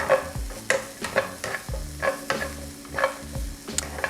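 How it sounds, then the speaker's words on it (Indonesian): Mushrooms frying in a pan are stirred with a spatula in steady strokes, each scrape crisp and close over a continuous background sizzle, with no one speaking. "Oke, kita aduk lagi."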